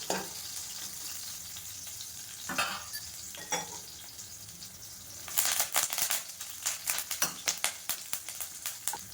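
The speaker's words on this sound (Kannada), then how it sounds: "ಸೊ ಇದೆಲ್ಲ ಹುರಿದಾದ ನಂತರ ಈರುಳ್ಳಿ ಹಾಕ್ಕೊತಾ ಇದ್ದೀನಿ ನಾನು." Onions frying in a pan after garlic and curry leaves for a Karnataka-style bassaru, heard as a soft steady sizzle with stirring scrapes, then a denser run of quick crackling bursts toward the end; no talking.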